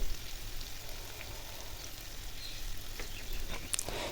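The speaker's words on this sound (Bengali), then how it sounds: "পেঁয়াজটা আগে ভালো করে ভেজে নেব" A continuous crackling sizzle of onions frying in a pan, steady and close, with a few brief pops near the end.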